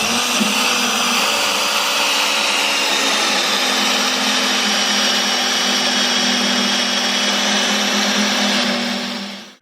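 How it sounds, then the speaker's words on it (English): A drill reaming out a hole in an ICE Storm ice scratcher, one continuous loud high-pitched whirring run that holds steady for several seconds before cutting off at the end. "I'm going to just kind of ream this one out a bit"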